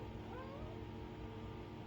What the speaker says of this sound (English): Meow.